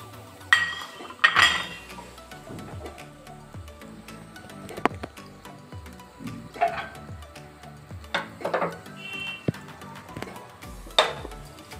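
A spoon scrapes and clinks against a cooking pan while whole spices are stirred: cloves, cardamom pods, cinnamon bark, mace and star anise for biryani. Scattered metallic taps and scrapes come close by over a quiet background.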